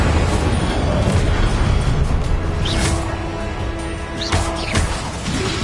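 An Incendio fire spell blast in the video game Hogwarts Legacy, loud booming bursts and crackling whooshes amid ongoing combat effects, no speech heard.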